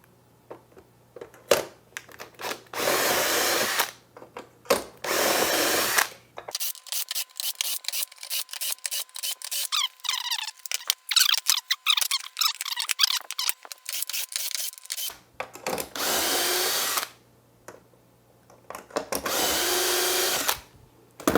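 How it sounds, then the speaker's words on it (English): A power drill whirs through several short bursts, boring shelf pin holes in an armoire, pausing between holes, with squeaky high-pitched boring in the middle stretch; loud and close. "So let's drill some shelf pins"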